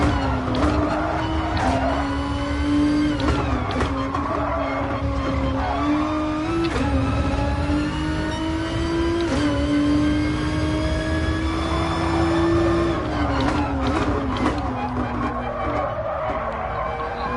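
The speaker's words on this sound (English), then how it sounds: "Check out those tyre squeals. That's all I can hear the whole lap." Racing car tyres in Gran Turismo Sport squeal almost continuously through corners at Suzuka, over a steady, loud engine drone, with brief gear-shift breaks along the way.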